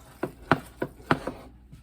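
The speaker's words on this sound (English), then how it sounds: "You keep stirring it and stirring it until it kind of loses its shine" Thick fudge mixture stirred in a pot off the heat: a series of sharp, close, woody scraping knocks in a loose rhythm, about six strokes, with no talking.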